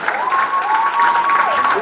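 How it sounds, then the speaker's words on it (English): Graduating high school class at a school leaving ceremony claps for themselves, a crowd of hands applauding steadily while a sustained voice or tone rings over it, with cheering mixed in. "If you're feeling proud today, clap yourself."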